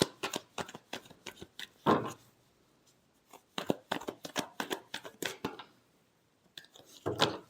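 Tarot cards being shuffled by hand, a series of quick riffling bursts with brief pauses between them, close and fairly loud with no talking.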